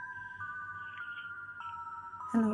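A phone ringtone for an incoming call plays as a steady electronic tone that pulses in short repeated phrases, fairly quiet and alone, with a louder clatter at the very end.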